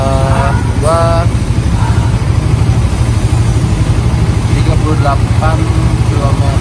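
A Suzuki GSX motorcycle ridden on a long road trip from Bandung to South Cianjur, its engine a loud, steady, low drone throughout with wind noise, while someone talks over it.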